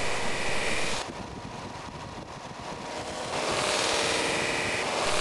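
A Larrivee guitar neck is polished on a spinning buffing wheel, giving a loud, continuous broadband roar that dips softer for a couple of seconds in the middle as the pressure eases, then swells back up.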